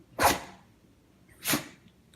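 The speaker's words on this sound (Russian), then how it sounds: "Хватит чихать, Кристина." A shih tzu dog gives two sharp, close sneezes about a second apart, with quiet between them.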